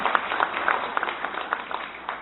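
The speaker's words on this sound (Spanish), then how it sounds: "yo pido un fuerte aplauso para nuestros compañeros diputados y diputadas del Congreso Nacional" Applause from an audience at an education ministry results presentation, a brief burst of scattered hand clapping at moderate loudness.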